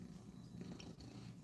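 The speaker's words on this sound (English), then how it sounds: "She's purring." A cat purrs softly and continuously at close range, a faint low rumbling vibration lasting just over a second with no voices.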